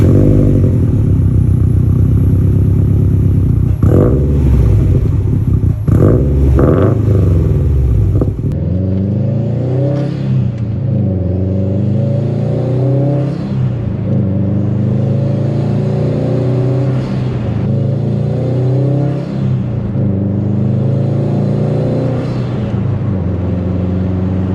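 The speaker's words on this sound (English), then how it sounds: "the engine I love, the EJ. That raw boxer rumble." Subaru STI with its EJ boxer engine, a loud, steady rumbling idle that rises into repeated revs, with a rough, throbbing low-end note carried throughout and no talk over it.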